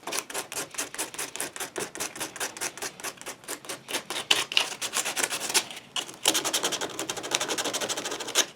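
Rapid rhythmic scraping of sandpaper over glazing putty on cast edges, a fast back-and-forth rasp at close range, moderately quiet, briefly pausing near the end before resuming steadily.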